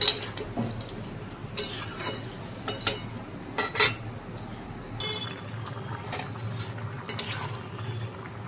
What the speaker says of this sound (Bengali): এইভাবেই ঝিঙে আর আলুটা ভালোভাবে নেড়ে নেড়ে ভেজে নেব।